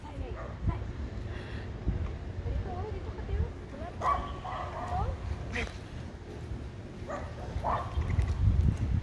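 An agitated dog barks and yips in short bursts amid busy outdoor noise, while people talk throughout.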